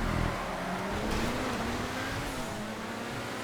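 Racing cars roar along a high-speed track in GTA 5, a dense, continuous engine drone that rises and falls in pitch as the cars accelerate, loud and alone without speech.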